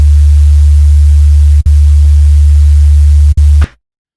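Steady, loud hiss of synthesized white noise crossfaded in stereo with a deep low hum beneath, briefly cut twice, then stopping abruptly.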